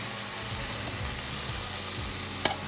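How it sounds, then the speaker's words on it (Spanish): Ground meat searing over high heat in a pan with sofrito, a steady close hiss and sizzle with faint scraping and a small clink near the end. "Vamos a echar la carne a fuego alto para sellarla"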